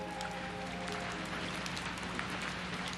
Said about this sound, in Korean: 빗방울이 함석 지붕을 두드리는 소리가 들렸다